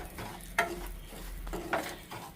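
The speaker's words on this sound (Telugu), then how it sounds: "ఇదే పాన్లోనే కొంచెం ఆయిల్ ఉంది కదండి, దాంతో ఈ రవ్వ వేసేసి ఒక 5 నిమిషాలు ఫ్రై చేద్దాం" Wheat semolina frying in a little oil in a pan with a soft sizzle, punctuated by a few brief stirring scrapes, close and fairly quiet.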